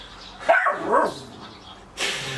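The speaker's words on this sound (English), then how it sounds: "2 seconds, I'll sort this dog out." A dog lets out two loud, close barks about half a second apart, followed by a quieter pause and a sharp burst of noise near the end.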